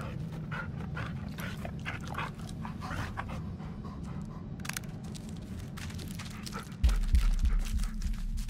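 A dog in the horror video game Blair Witch whimpers and pants softly through steady low background rumble, with a louder thump near the end.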